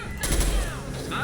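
Gunfire in the Mass Effect 2: Legendary Edition video game, a brief dense burst of shots and booms right up front, with a voice talking over it.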